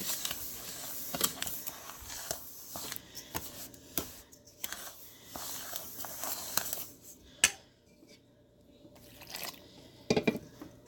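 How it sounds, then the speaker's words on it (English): Warm water poured into sand clay and stirred by hand, heard as faint, scattered wet clicks, drips and soft scraping strokes at close range, with brief quiet gaps between movements. "I'm just going to pour some in and mix it together"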